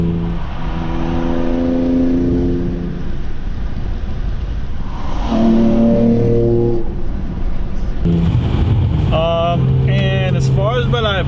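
A 2003 Infiniti G35 Coupe engine revving, with a steady droning tone that swells and settles over several seconds while a person talks over it.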